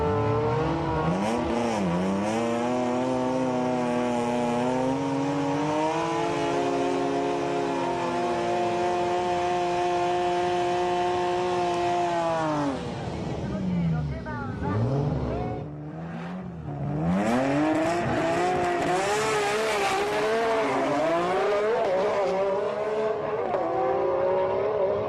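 A Nissan GT-R drag car with an HKS 2.8 litre kit and twin HKS 3240 turbos, rated around 1200 horsepower, screams through its gears in a loud run, with rising revs, a brief drop at a shift, then climbing again.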